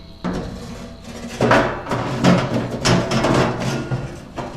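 A metal drip tray slides into a Recteq RT-700 pellet grill with scraping and clunking knocks, loud and close, in a few uneven pushes.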